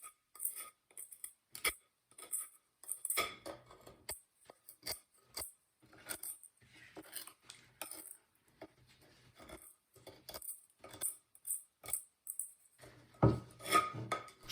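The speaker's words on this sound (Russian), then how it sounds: "Попробую его теперь снять ножом." A knife scraping years of burnt-on carbon and grease off a frying pan, giving repeated short, gritty metallic scrapes in irregular bursts, close and fairly quiet, with brief pauses between strokes.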